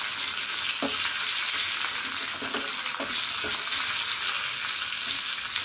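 Whole garlic cloves fry in a pan for an Andhra-style tomato dal, a loud continuous sizzle broken by several soft clicks and scrapes as they are stirred.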